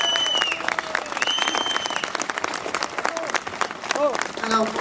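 Audience applauding for Marie-Monique Robin at a public speaking event, with dense sustained clapping and a few shouted voices from the crowd mixed in.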